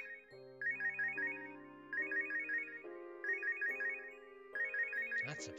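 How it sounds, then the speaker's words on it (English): A phone in the Robotics;Notes Elite game rings with a melodic electronic tune, its short bright phrase repeating four times in steady rhythm over sustained synth tones, loud and clear with no voices. "That's a phone. 電話が鳴っていますよ。"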